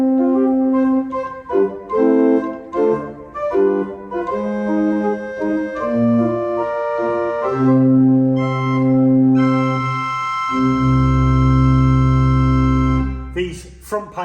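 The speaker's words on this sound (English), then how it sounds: "So the first stop on the grate is an 8-foot open diapason," Pipe organ playing its 8-foot open diapason stop on a 150-year-old Jardine & Co tracker organ in Penrith, giving a steady, full-toned melodic passage of sustained notes that ends on a long, deep low chord.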